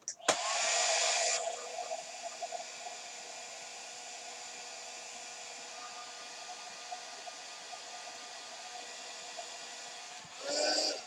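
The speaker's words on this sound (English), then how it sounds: "hit it with your low temp" A low-temperature heat tool blows over watercolor paper, opening with a louder whooshing burst, then settling into a steady airy hiss before a brief final rise and cutoff.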